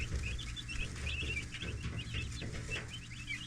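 Young Cornish Cross chicks outdoors on pasture, a steady chorus of short, high chirping peeps that overlap continuously over a low background hum.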